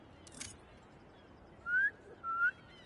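Two short rising whistles in Marvel's Spider-Man 2, clear and fairly loud over a steady low game-ambience bed, following a brief faint burst.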